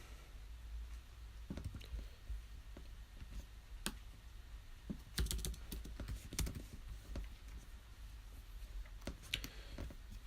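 Keys clatter on a computer keyboard in irregular bursts of quiet clicks and taps, close and fairly soft against a low background hum, with no talking.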